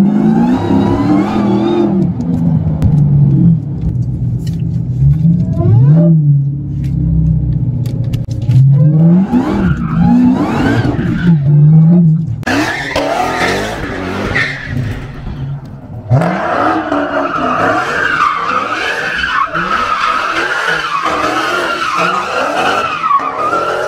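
A Dodge Challenger Hellcat with nearly 1000 hp and rear-wheel drive roars on a closed lot, its engine rising and falling through revs while tires skid and squeal, loud and close, with sharp bursts of acceleration later on.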